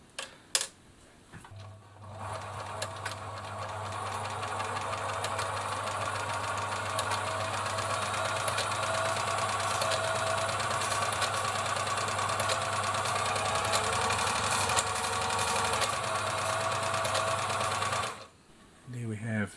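A Singer 700 Series sewing machine runs a long basting seam on a length of fabric, a steady close mechanical whir and rapid knock that holds evenly for about sixteen seconds before stopping, with no talk over it.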